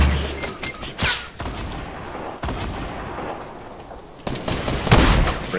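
Grenade blasts in Fortnite, several sharp booms spaced irregularly across the stretch, the loudest near the end, with rumbling gunfire texture between them.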